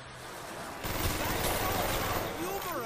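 Rapid AUG rifle fire from a Kino Der Toten zombie round in a video game, dense bursts crackling steadily throughout, with a voice talking faintly underneath.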